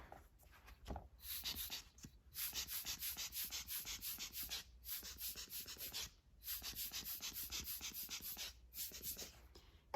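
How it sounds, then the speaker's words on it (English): A hand air blower puffs at drops of alcohol ink in repeated hissing bursts of air, close up, in a steady pumping rhythm broken by a few brief pauses. "A couple of drops. And I'm gonna get in there with my blower."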